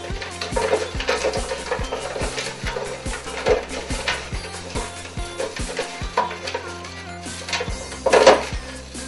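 Prize draw tickets are stirred and shuffled by hand in a container, making a continuous rustling, scraping clatter with a dense run of small rhythmic knocks, close and fairly loud.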